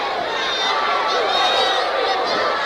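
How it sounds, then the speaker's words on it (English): A crowd roars steadily at a 1975 IWA professional wrestling match, loud and dense throughout with a shrill edge of screams and whistles. Voices are mixed into the noise. "And listen to the crowd."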